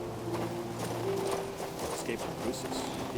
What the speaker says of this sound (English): Oh my gosh, the horse.